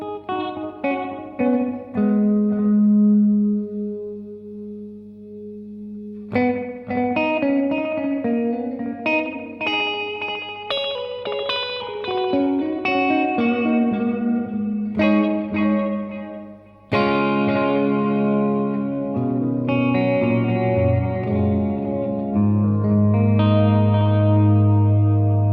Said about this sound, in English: So we've got a real slapback sound and a very distinct delay at the same time.